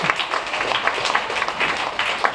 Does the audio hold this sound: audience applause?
yes